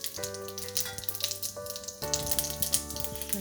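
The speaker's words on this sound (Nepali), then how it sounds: "तेल तातेपछि मैले यसमा फुराएँ 1/4 चम्चा मेथी" Fenugreek, cumin and mustard seeds sizzle in hot oil for a fiddlehead fern pickle, a steady close crackle and hiss with faint kitchen clatter and no talk.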